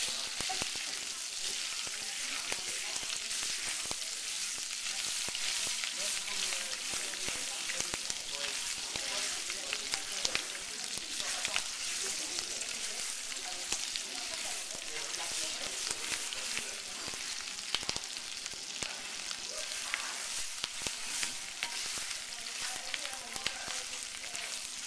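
Steady bright sizzling of crêpe Suzette sauce simmering in a pan after deglazing with orange at a guest's table, continuous and close, with faint talk underneath.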